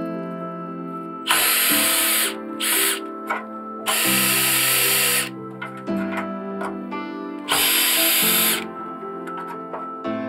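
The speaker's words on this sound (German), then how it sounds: "Nach dem Entfernen der vier Schrauben können wir die Abdeckung abheben." Power screwdriver backing four screws out of a battery storage cover, with several loud whirring bursts of a few seconds each, separated by short pauses and faint clicks, close and alone.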